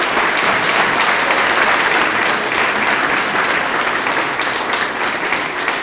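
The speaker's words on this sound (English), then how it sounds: "Let's have another round of applause for this year's champions of the new economy." A loud, continuous round of applause fills the room at a business awards night for the Champions of the New Economy, an even wash of many hands clapping with no pauses.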